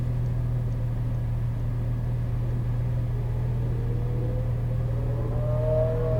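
A Porsche GT3 991 engine accelerating on a race track, a steady in-car drone with engine pitch climbing as revs build toward the end, loud and continuous without talk.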